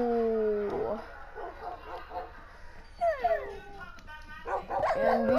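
Dogs in the Minecraft PlayStation 4 Edition video game give several short barks and yips in quick bursts, mixed with whining tones and game sounds, fairly close and moderately loud.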